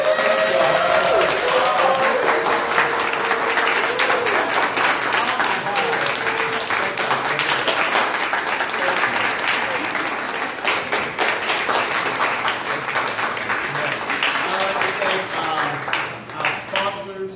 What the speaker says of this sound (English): y'all gotta have to give him a round of applause